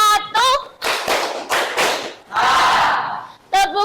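Hands clapping in a classroom exercise during a lesson, counted in groups of one, two and three claps: a run of several sharp, loud claps in sequence, with a teacher's voice speaking before and after them.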